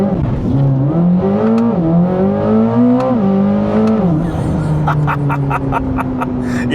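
A Corvette ZR1's powerful engine revs hard during a launch and climbs through the gears, loud and close, its pitch rising in steps before easing off.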